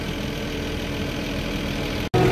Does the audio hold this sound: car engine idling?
yes